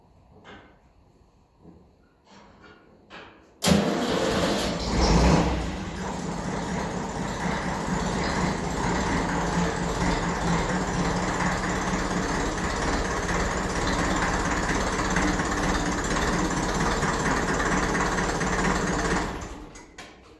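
A 1954 Ferguson TEF 20 diesel tractor cranks briefly on its starter after a few light knocks, then fires and settles into a loud, steady, rattling idle close by, running evenly for about fifteen seconds before cutting off.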